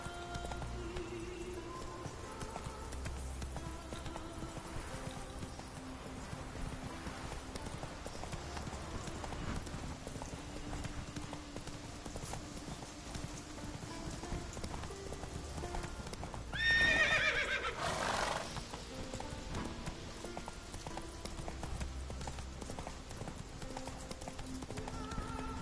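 Horse hooves clip-clop at a steady galloping run with a loud neigh about two-thirds through, from a Witcher video game, set over continuous game background sound.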